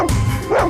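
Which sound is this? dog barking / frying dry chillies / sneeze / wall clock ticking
dog barking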